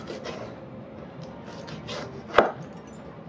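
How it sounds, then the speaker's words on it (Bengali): A knife chops onion into even pieces on a cutting board, a steady soft rhythmic tapping with one sharper, louder chop near the end, set in a home kitchen while making chicken fried rice. "এবার পেঁয়াজ কুচবো।"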